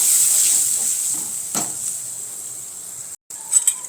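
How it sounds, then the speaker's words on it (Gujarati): Spice paste sautéing in hot oil, a green-vegetable paste frying for a rotli dish. A steady bright sizzle is loudest at first and slowly fades, with a few stirring scrapes, a brief gap, then a short burst of crackling. "આપણે જે આ પેસ્ટ બનાવી હતી તે ઉમેરી દઈશું. તેને આપણે સરસ રીતે સાંતળી લઈશું."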